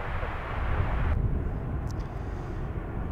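An airliner operated by High Fly Malta at Chicago O'Hare gives off a steady, broad jet roar that stays loud and even for a few seconds, with no voices over it.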